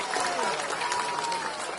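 Applause and crowd noise fill the room at an Indonesian presidential candidate's campaign event, a dense, continuous wash of clapping and murmuring voices.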